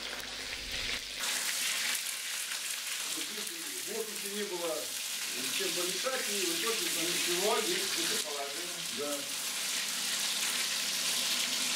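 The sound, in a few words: food frying in a pan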